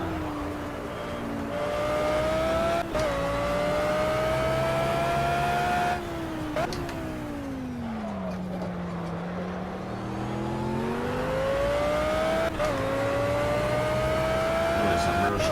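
A race car in the Project Cars video game laps a track at full speed, its engine whining loud and steady and climbing in pitch through each gear with brief dips at the shifts, while someone talks over it.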